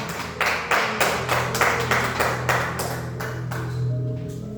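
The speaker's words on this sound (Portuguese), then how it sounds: "Aplauda bem forte ao nome de Jesus" Church congregation clapping loudly in a strong, steady beat, about a dozen full claps close by over a low sustained hum, easing off near the end.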